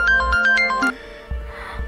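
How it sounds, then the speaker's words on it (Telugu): A phone call rings out in a crime film scene as a short electronic melodic ringtone tune. It plays loudly at first, then breaks off, leaving a quieter low hum and a couple of soft thumps. "శరణ్కి నేను చేసిన ఫోన్ కాల్."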